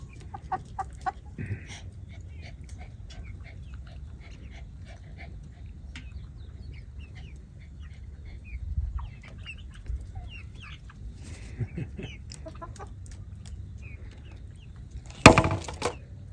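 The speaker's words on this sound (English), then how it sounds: "All the chickens." Backyard chickens clucking, scattered short clucks and soft calls near and far over a quiet outdoor background, with a few louder knocks and a sharp burst near the end.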